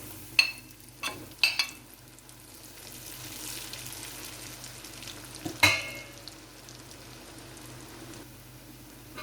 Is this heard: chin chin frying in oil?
yes